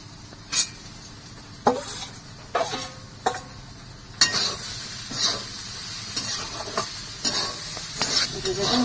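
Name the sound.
chickpeas and fried potatoes sizzling and stirred in pan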